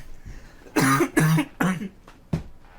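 A person coughs after a fit of laughter, four harsh bursts close to the mic: three in quick succession, then a final shorter one after a pause.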